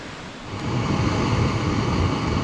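A stream flows steadily beside a campfire at Rausch Creek in Pennsylvania, its broad, even rush of water close by and swelling slightly after the first half second, with no voices.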